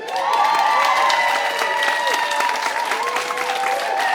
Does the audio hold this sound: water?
no